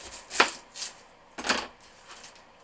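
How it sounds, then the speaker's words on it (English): An onion is chopped on a cutting board, giving a few separate knife strikes with soft woody thuds. Two stronger chops stand out among lighter cuts in otherwise quiet surroundings. "So the first thing I'm going to do is cut my onion."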